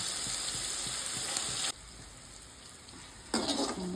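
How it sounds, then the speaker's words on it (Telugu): Ridge gourd pieces fry in a pan with a steady sizzle. The sound drops abruptly in the middle, then returns with a louder burst of hissing. "బీరకాయ ముక్కలు మంచిగా వేగిపోయాయి"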